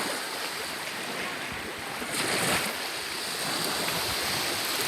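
Ocean waves wash steadily onto a Florida beach, a broad continuous roar of surf with gusty wind noise on the microphone and a slight swell in loudness midway.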